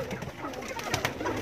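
Pigeons sitting on eggs in a loft coo softly and repeatedly at close range, with some rustling and background noise around them.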